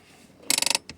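The handbrake of a supercharged Honda NSX is pulled up, giving a quick run of about seven crisp ratchet clicks close by, followed by a single softer click.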